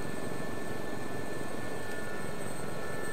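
A Gazelle SA342 helicopter flying in the DCS combat flight simulator, with a steady, loud rotor and turbine drone that holds constant for the whole stretch, without talk.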